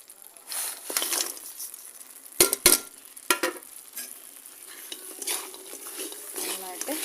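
Fried chicken stirred in a sizzling pan: repeated spoon scrapes and metallic clanks over a bright continuous fry hiss, close and busy, with no talking.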